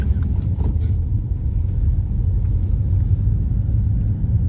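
A car pulls away along a snowy road with a steady, deep rumble of engine and tyres, heard from inside the cabin and continuing unbroken without speech.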